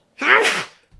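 A single loud, close sneeze bursting out sharply and fading within about half a second, followed by a brief quiet.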